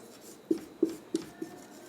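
Pen or chalk strokes on a board or paper during a math lesson: four short, soft taps spaced about a third of a second apart, heard alone in a quiet room.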